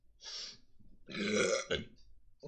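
Loud, close burps erupt in two long bursts with a short third at the end, made during a casual gaming podcast chat.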